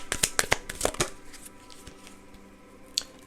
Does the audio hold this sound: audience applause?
no